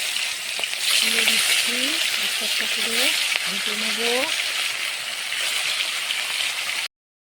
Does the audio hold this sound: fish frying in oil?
yes